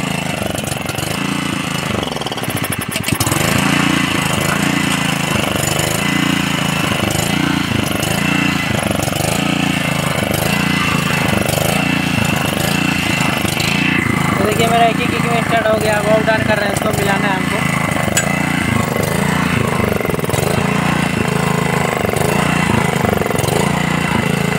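A Honda water pump engine runs steadily after a kick start, a loud, even, throbbing mid-range drone that continues throughout, with voices partly audible over it.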